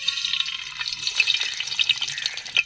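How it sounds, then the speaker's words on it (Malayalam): Mustard seeds dropped into hot coconut oil for a Kerala-style fish head curry, crackling and popping in a bright sizzle with scattered sharp pops, ending abruptly. "അതിലേക്ക് നമുക്ക് അങ്ങനെ കടുക് ഇട്ട് കൊടുത്താലോ."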